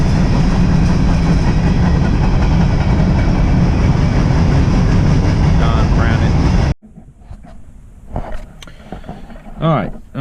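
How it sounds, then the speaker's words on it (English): A loud, continuous rumble and roar of a passing train fills most of the clip, then stops abruptly, leaving quieter background sounds. "The train is still going through, ruining my video."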